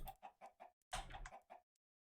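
Giant chicken in Minecraft's GregTech New Horizons modpack clucking in a quick run of short calls, a pause, then a louder burst of clucks that trails off into silence.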